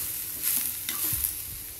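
Grated fresh wet coconut frying in a pan with mint and coriander, a brief low sizzle with a couple of soft stirring scrapes and clinks near the middle.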